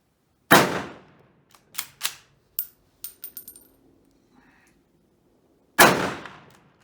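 Sharp rifle shots from an Indian 2A1 SMLE chambered in 7.62x51mm, outdoors on a cold range: one loud report, a cluster of lighter metallic clacks and rattles of the action, then a second loud shot.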